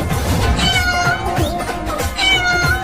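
A cat meowing in a comic chase: drawn-out, wavering meows, loud and close over a busy background.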